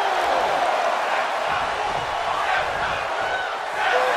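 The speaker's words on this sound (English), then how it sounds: "The sound of this crowd is deafening, and he's asking for more" Steady roar of a big wrestling arena crowd cheering in WWE 2K22, a dense, continuous wash of voices that stays loud throughout.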